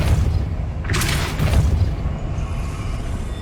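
A Depulso spell is cast in Hogwarts Legacy, a deep booming blast that swells out of a dense, continuous game soundscape with a bright burst near the start and a low rumbling tail.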